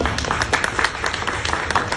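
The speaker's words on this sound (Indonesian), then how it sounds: "Oke, boleh minta tepuk tangannya teman-teman." A press conference audience for a rock and metal festival claps together, a dense, steady patter of many hands close by for about two seconds.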